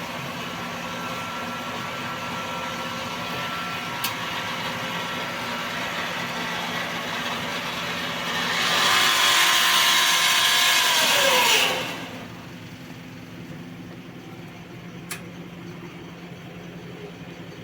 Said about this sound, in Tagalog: Na-vacuum na po yung oil papunta dun sa oil tank.